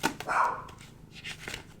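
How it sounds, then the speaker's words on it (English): A dog barks indoors, giving a few short, moderately loud barks in quick succession near a person who briefly speaks. "Sorry about the barking."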